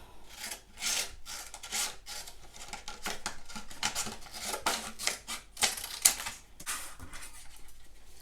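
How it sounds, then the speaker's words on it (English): Paper being trimmed for a slimeline holiday card, with a steady run of close, dry scraping and slicing strokes repeating unevenly across the stretch, no talk. "So I'm going to cut this paper down just a little bit."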